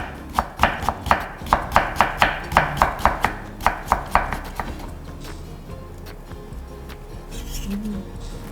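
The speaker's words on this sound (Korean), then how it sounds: "진짜 당근 채 너무 곱고 예쁘게 잘 썰렸네요" A knife julienning carrot on a cutting board, about fifteen quick, even chops in a steady rhythm, close and crisp, then stopping, leaving quiet kitchen room tone with faint background sounds.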